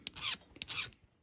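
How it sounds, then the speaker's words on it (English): Two short rasping strokes of a hand file on metal jewelry settings, close and quiet, with a brief pause between them. "So I've just got to file a little bit on these settings"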